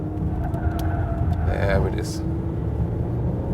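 A Jaguar F-PACE S SUV accelerates hard under throttle on a test drive, its engine note swelling into a brief rising surge inside the cabin over steady road noise, while someone talks over it.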